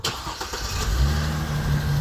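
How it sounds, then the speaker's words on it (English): A car engine cranks and catches, then settles into a steady idle hum, close by and fairly loud, with no talk over it. "just turned the car on"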